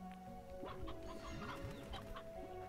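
Chickens cluck in the video game Slime Rancher, a flurry of quick overlapping clucks and squawks over a faint steady background hum, fairly near.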